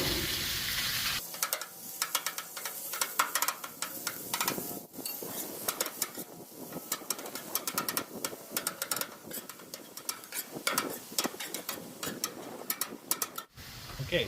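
Ground beef, 80-20 hamburger, frying on a Blackstone griddle, a steady close sizzle with scraping and tapping of a spatula throughout, fairly loud and continuous with no talk.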